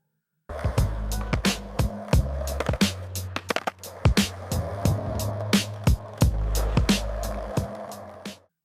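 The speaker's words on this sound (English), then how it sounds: "Think a skateboarder doing tricks at sunset with lo-fi beats in the background." Skateboard wheels roll steadily across pavement at sunset, broken by repeated sharp clacks and slaps from tricks and landings, close and continuous over soft low-end background tones.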